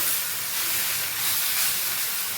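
Mint leaves sautéing in a hot pan for a mint chutney, a loud continuous hissing sizzle held steady throughout, no voices.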